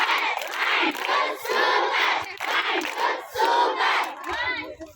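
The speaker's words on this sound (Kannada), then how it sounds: "ಒಂದು ಜೋರಾದ ಚಪ್ಪಾಳೆ." A large audience at a children's literature festival in Koppal, Karnataka, bursts into loud, sustained clapping with shouts and cheering, in several surging waves that fade near the end.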